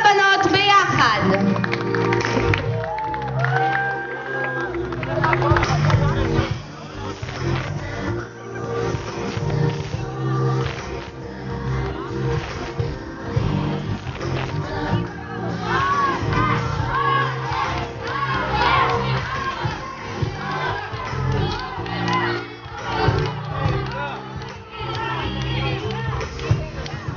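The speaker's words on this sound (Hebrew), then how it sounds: "אני רוצה לשמוע מחיאות כפיים?" Audience at a beauty pageant shouting and cheering loudly and continuously, a dense crowd roar with some clapping and voices mixed in throughout.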